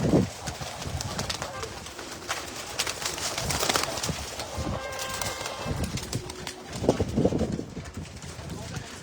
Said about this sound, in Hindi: ये हमारे फैसलाबादी कबूतर है